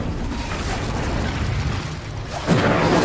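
Bombarda spell in a video game, heard as a sustained rumbling blast that surges again near the end, loud and close with no talk.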